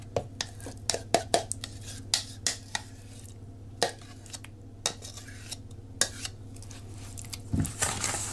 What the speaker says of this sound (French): On mélange.